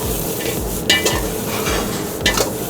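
Chopped onion sizzles with dry red chilli in a hot wok, a close, steady frying hiss broken by a few sharp metallic scrapes of a spatula.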